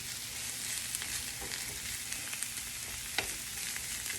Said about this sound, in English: you're basically gonna stir it and bring it to the top when it's brown